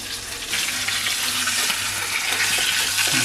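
Nachara fish frying in a pan, a steady close hiss of spitting oil filling the whole stretch with no talk over it.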